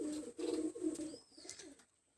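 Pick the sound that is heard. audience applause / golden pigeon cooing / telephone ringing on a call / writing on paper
golden pigeon cooing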